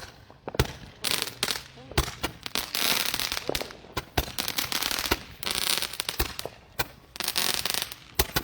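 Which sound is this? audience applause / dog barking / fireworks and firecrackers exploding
fireworks and firecrackers exploding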